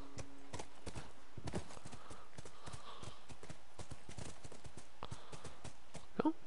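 Horse hooves clip-clop steadily in The Last of Us, a rhythmic run of close, even hoofbeats against a quiet game background, ending with a brief louder sound.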